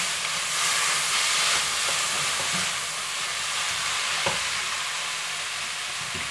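Glass noodles stir-fried for pad thai with a splash of water added, giving a steady loud hiss of steam and sizzle with occasional scraping stirs.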